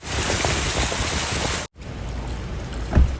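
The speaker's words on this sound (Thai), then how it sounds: "เริ่มมีน้ำไหลซึมเข้ามาแล้ว" Floodwater flows beside the Ping River in Chiang Mai, a loud, rushing hiss of moving water that cuts out briefly and then returns slightly softer.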